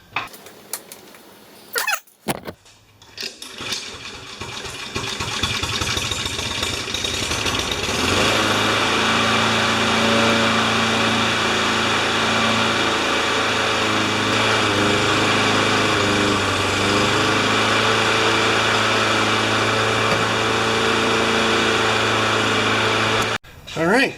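A rough Honda GCV160 lawn mower engine with a leaking carburetor sputters on, then settles into a steady, loud, high-pitched running drone for most of the clip before cutting off abruptly; a person talks briefly near the start.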